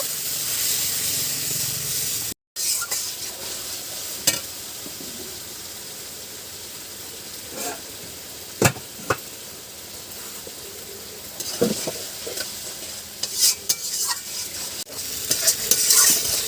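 Spice paste with turmeric, salt and water sizzles in a pan as it is stirred for a rustic village curry, giving a continuous hiss punctuated by scraping strokes of a utensil.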